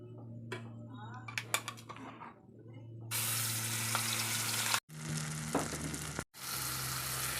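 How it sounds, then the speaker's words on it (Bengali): Ground spice paste hits hot oil with cumin seeds and bursts into a loud, hissing sizzle after a few clinks of utensils, continuing with brief cuts in the sound. "পেস্টটাকে এখন আমি এই তেলের উপর দিয়ে দেবো।"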